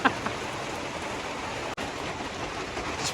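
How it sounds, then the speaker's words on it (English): Steady rain falling outdoors on a driveway during a passing shower, a dense even hiss of drops that holds at moderate loudness throughout with a brief dropout partway. "So it started raining."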